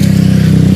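A steady, close engine drone with a low rumbling pulse, like a motorcycle idling or rolling past, holding level throughout.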